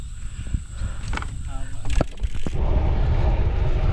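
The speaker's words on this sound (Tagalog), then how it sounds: "Ang lakas ng hangin." Strong headwind roars across the microphone during a road bike ride on a loop route, a loud rumble that builds toward the end, with speech underneath it.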